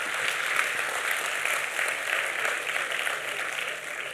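Dense, steady applause from a conference audience of CA students, many hands clapping continuously at an even level throughout without a break.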